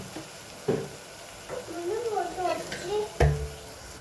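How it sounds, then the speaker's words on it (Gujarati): Crushed garlic goes into a sizzling pan, with a low frying hiss and a couple of dull knocks as it is stirred in. A person talks over the cooking sounds. "સહેજ લસણ નાખી દઈએ અને ધાણા ધોઈને નાખી દઈએ."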